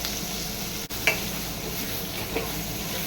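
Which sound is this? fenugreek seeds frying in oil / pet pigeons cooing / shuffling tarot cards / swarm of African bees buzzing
fenugreek seeds frying in oil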